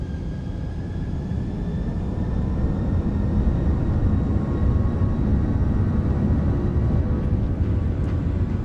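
Airbus A340 engines spooling up to takeoff thrust in a flight simulator, a steady loud broadband roar that builds slightly and holds, no voices over it.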